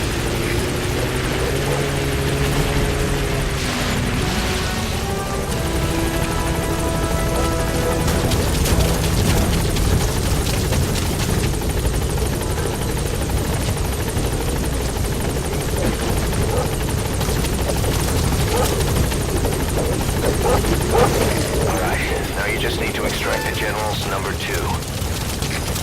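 A helicopter in the video game Metal Gear Solid V hovers near a landing zone, its rotor throbbing loud and continuous under a radio voice and other talk, with mechanical whines and game effects mixed in.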